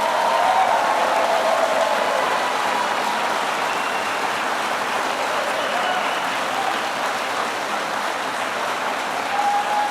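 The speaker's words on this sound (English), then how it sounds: "Let's give them a round of applause." A crowd at an event at Hatch Stamping in Howell, Michigan, gives a loud, sustained round of applause, a dense, unbroken wash of clapping that holds for about ten seconds.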